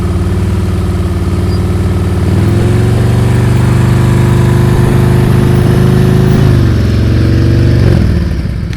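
Motorcycle engine held at a steady low idle-like drone through slow-speed riding practice in California, with a slight rise in revs midway and a constant, close, loud hum throughout.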